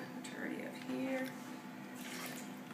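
Half a cup of water poured into a Sunbeam Cafe series blender while making a cheesy zucchini dish, a faint, soft splash and trickle heard close by in a quiet kitchen.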